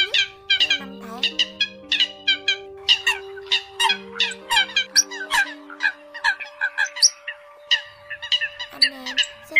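Eurasian coot calls from an early-season 2021 recording, dense overlapping honking and squawking notes repeated in rapid bursts, loud and close, with steady tonal hums running underneath.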